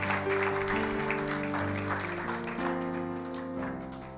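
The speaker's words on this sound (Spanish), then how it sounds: "Dale un aplauso al Señor." A church congregation claps together over sustained organ or keyboard chords, the applause moderately loud and continuous throughout, blending with the held music.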